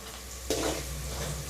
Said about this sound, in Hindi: अब इसको थोड़ा हम भून लेंगे पहले। अब थोड़ा सा प्याज जो है हल्का सा